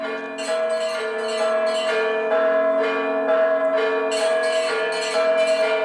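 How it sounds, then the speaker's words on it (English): Church bells ring loudly at a Ukrainian Orthodox cathedral ahead of a Metropolitan's arrival, several bells of different pitches struck in a repeating melodic peal with long ringing tones, close and continuous. "Bells ring in anticipation of the arrival of the Metropolitan, who is the chief bishop of the church."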